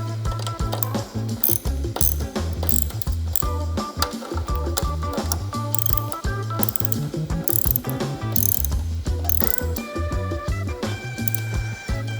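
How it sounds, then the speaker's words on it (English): A ratchet tightening bolts on mid-frame air deflectors of a Harley Softail motorcycle: continuous rapid clicking from the pawl in steady back-and-forth strokes, close and loud, with no talking. "We'll tighten down the tank bolt first. Once that's tight, we'll go ahead and tighten down these remaining two bolts."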